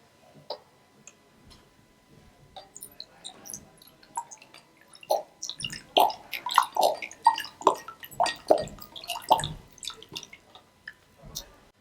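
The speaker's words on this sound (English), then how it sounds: "Put the vinegar into the cup." Vinegar is poured into a cup for a volcano science experiment: a few faint drips at first, then a busier run of irregular liquid splashes and gurgles, fairly close and quiet.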